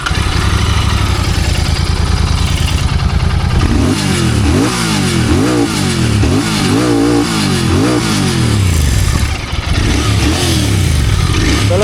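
Royal Enfield GT 650 twin motorcycle engine, loud and close, idling steadily at first, then revved hard in several repeated rising and falling bursts with no talk over it.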